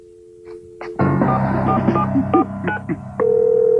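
A telephone number is dialled on a station booth phone: a steady dial tone, then a quick run of distinct keypad beeps, clear and close with no talk.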